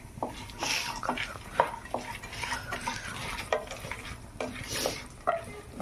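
Cashews and almonds frying in a pan, stirred with a small nonstick spoon, giving a soft sizzle broken by intermittent scraping and tapping strokes against the pan.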